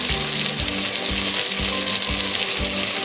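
Vegetables browning in a soup pot, a loud continuous sizzle and fry close up, with soft regular thumps as they are turned and stirred.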